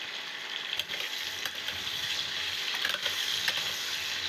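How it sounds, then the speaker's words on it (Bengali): Potato pieces fry in hot oil with turmeric, chili powder and salt, a steady bright sizzle broken by occasional scraping clicks as they are stirred and turned in the pan. "দেব হলুদ গুঁড়ো লঙ্কা গুঁড়ো আর দেব নুন দিয়ে আমি আলুগুলোকে উল্টে পাল্টে ভালো করে ভেজে নেব"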